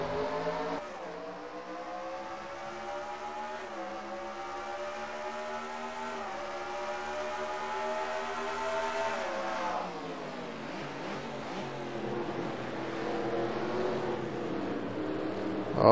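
Race cars in a racing video game accelerate off the start of the Indianapolis Grand Prix, a dense layered engine drone climbing steadily in pitch, then dropping and building again as they shift, with no talk.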